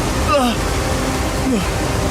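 Water rushes through a stream deep inside a cave, a loud, steady roar filling the whole stretch, with brief traces of a voice surfacing over it.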